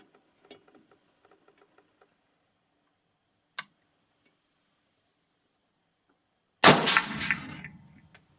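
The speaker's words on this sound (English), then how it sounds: "So now let's start shooting and pre-zeroing our combo." A rifle fires a single loud gunshot while a Sightmark Presidio 1.5-9x45 HDR scope on Contessa detachable mounts is being zeroed outdoors, with a sharp crack and a rolling echo, preceded by faint clicks and a brief metallic tick.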